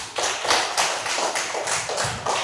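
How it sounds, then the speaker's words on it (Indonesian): A small group in a classroom claps in a quick, steady rhythm of about eight close, crisp beats, loud and near with no talk. "tepuk tangan"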